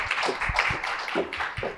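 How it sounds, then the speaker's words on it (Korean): A lecture audience welcomes a pastor to the podium with sparse, uneven clapping, a handful of distinct claps close by with gaps between them, fairly quiet overall. "이상원 목사님 큰 박수로 연단해 모시겠습니다"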